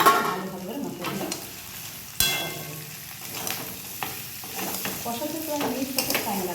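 Ground turmeric, cumin, chili powder and salt being stirred and fried in a pan, a soft sizzle under repeated scraping strokes of a spoon, with a sharp clank at one point.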